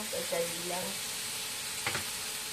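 Chicken liver frying in a pan for adobo, a soft steady sizzle in the background, with short stirring scrapes near the start and a brief clack near the end.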